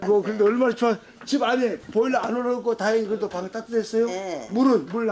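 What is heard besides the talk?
No everyday noise stands out behind the speech.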